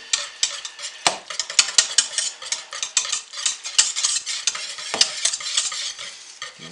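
Coffee grounds are stirred into a thick soap batter, producing a quick, rhythmic scraping and clinking of a utensil against a container, close and fairly loud, with no talking.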